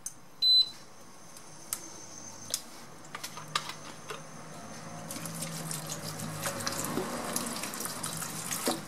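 Water trickles into a pan of blackberries with brown sugar for a tart filling, a soft running pour building from about halfway through after a few small clinks and taps, fairly faint and with no voice over it.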